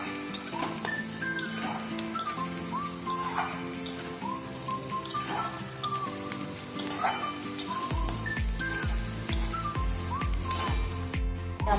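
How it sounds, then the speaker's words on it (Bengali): Chopped onion sizzles and fries in a pan, a steady close crackle running throughout with light stirring clatter, and no talk. "দেখতে পেয়েছো পেঁয়াজটা হালকা লাল হয়ে গেছে, আর একটু আমরা ভেজে নেব।"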